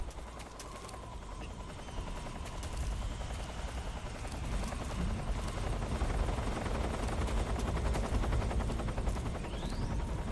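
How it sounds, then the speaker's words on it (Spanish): A helicopter in the video game Metal Gear Solid 3: Snake Eater throbs steadily in a low register, its rhythmic rotor pulse growing a little louder and holding for the whole stretch. "Escucho un helicóptero."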